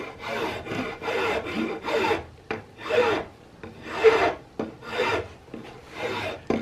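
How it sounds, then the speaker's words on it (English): A coarse rat tail file rasps across the wooden cheek rest of a CVA Hawken rifle stock in repeated strokes, each pass a gritty scraping burst with brief pauses between, close and fairly loud. "I think this would be called a pretty coarse rat tail file"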